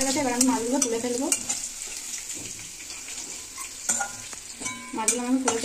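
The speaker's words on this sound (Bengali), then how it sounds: "আর চিংড়ি মাছ ভাজা হচ্ছে" Prawns frying in hot oil in a home kitchen, a steady close sizzle with bursts of stirring and spatula scrapes rising and falling over several seconds.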